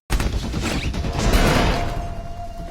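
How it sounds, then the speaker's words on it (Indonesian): A gunshot in a zombie war film scene, a sudden loud blast followed by a crashing, rolling boom that slowly decays over a couple of seconds, alone without talk. "Dr. Fasbach secara tak sengaja menembak dirinya"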